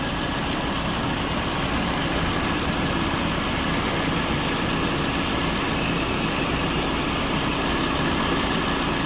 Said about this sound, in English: The compressor is very much alive.